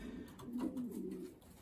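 Racing pigeons coo softly inside a loft, with a low, rolling murmur of several birds overlapping steadily at close range and no voices.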